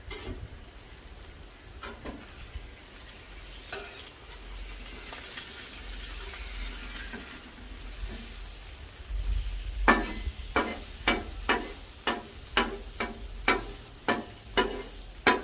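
Bacon and sausage frying on a flattop griddle, a steady low sizzle that turns into a run of sharp, regular scraping or tapping hits from a utensil on the griddle surface near the end.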